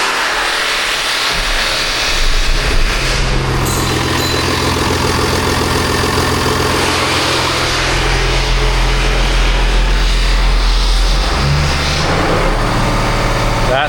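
A truck engine running after a repair, idling steadily with a deep rumble and rattling vibration, close and loud, holding at a constant level for the whole stretch.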